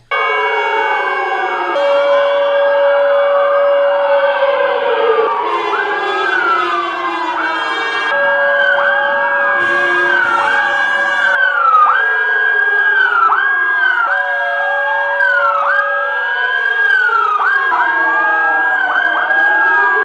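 Air-raid style sirens sound loud and continuous during the November 10 Atatürk memorial moment of silence in Çorum, Turkey, several overlapping wailing tones rising and falling together with no talk.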